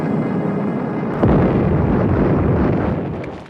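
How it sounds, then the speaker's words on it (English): Soviet artillery shelling entrenched Finnish positions on the Mannerheim Line in the Winter War, heard as a continuous rumbling roar with a sharp burst partway through, loud and close, with wind-like noise throughout. "the Soviet artillery heavily shells entrenched Finnish positions"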